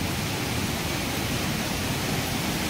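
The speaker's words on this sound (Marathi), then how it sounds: "हे बघा दिसतंय इकडून खाली कडा धबधबा जातो." A waterfall pouring down a cliff: a steady, dense, loud rush of falling water with no break, heard alone.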